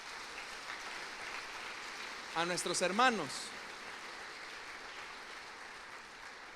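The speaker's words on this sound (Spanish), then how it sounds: "Les damos un aplauso" Church congregation applauding young deacons in a church service, a broad even patter of clapping running throughout, with someone speaking briefly over it partway through.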